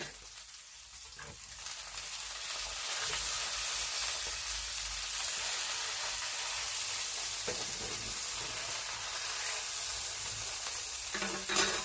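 Mackerel fries in a hot pan, giving off a steady, close sizzle with a hissing, crackling texture that continues throughout with no voices.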